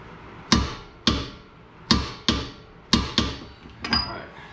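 Sharp metal hammer blows stake the axle nut on a drift car, seven ringing strikes in uneven pairs and singles, each with a short decay, close and loud with no talking.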